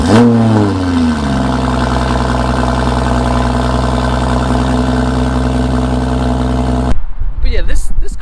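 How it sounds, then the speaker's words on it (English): BMW X4 M40i engine revving loudly right after a cold start, a sustained high idle with steady harmonic drone that rises at the outset, then cuts off abruptly near the end. "this car sounded amazing and just did a cold start"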